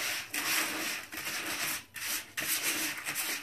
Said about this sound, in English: Stir it up real good, just like you would any other rice.